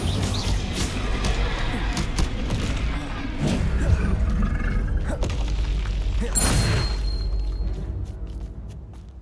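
Spell blasts burst and boom in Hogwarts Legacy combat, repeated loud impacts and rumbling explosions over a busy game soundscape, with a strong burst near the end.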